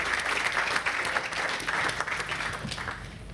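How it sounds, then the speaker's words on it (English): An audience at a business forum applauds a government trade minister, a steady crowd clapping that stays full and even before easing slightly at the end, with no speech over it. "Can we give him some applause,"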